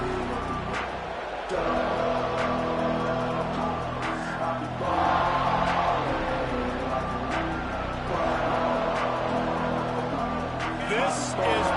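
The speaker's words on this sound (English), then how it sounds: "This crowd ready to make its presence known." Stadium crowd noise from a college football video game, Notre Dame against Texas, a dense continuous roar and cheering under an announcer's steady commentary.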